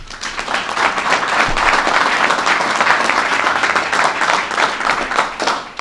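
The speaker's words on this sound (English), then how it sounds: "Let's give them a round of applause." Audience at a governor's briefing on Lake Ontario flooding gives a round of applause, a full, steady wash of many hands clapping that stays loud throughout.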